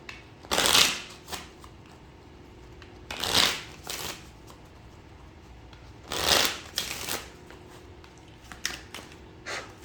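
Tarot cards being shuffled in three separate brisk riffling bursts, close and crisp, with quiet pauses between them and no talking.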